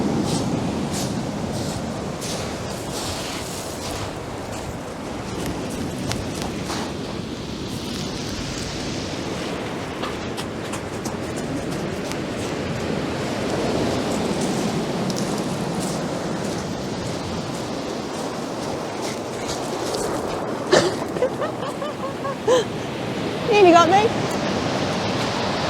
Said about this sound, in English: here, ladies and gentlemen, is the sea looking ferocious